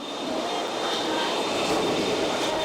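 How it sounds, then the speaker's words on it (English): Steady, smooth drone of a C-5 Super Galaxy military transport plane in flight, heard from inside the cabin as an even broadband roar with a faint high whine running through it. "This plane flies so much smoother than I thought it would, despite how big it is"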